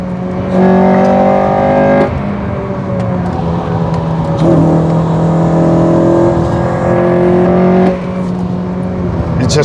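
A Honda K20 VTEC engine revs hard at the Nordschleife, its loud harmonic engine note holding steady, dropping briefly with gear changes around two, four and eight seconds, then climbing again, close and continuous throughout.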